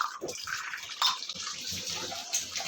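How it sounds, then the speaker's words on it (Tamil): Water measured in a cup and poured into a pot while making instant venpongal, a short steady splashing pour close by with a faint clink near the middle, heard alone. "3 கப் அளவுக்கு நான் தண்ணி அளந்துருக்கேன்."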